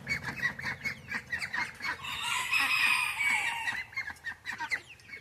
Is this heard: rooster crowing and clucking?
yes